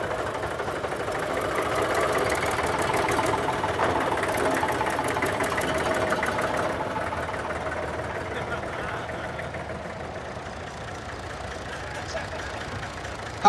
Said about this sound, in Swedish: Den är trecylindrig dieselmotor i denna traktor.